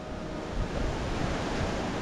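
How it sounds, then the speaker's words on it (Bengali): Strong wind blowing outdoors, a steady broadband roar with gusty rumbling buffeting the microphone, loud and continuous with no voices. "কি অবস্থা বাতাস হচ্ছে দেখো"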